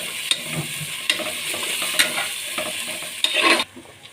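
A spoon stirring mint leaves through prawn biryani masala in a hot pan, steady sizzle with scraping strokes and a few sharp taps, close up, finishing with a louder scrape before quieting.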